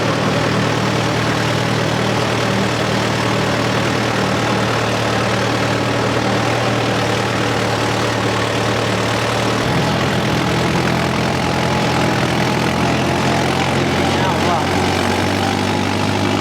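A Mahindra 575 4WD tractor engine runs steadily and loudly throughout with a deep, constant drone that shifts pitch slightly partway through, heard outdoors near the Godavari river with no other sounds on top.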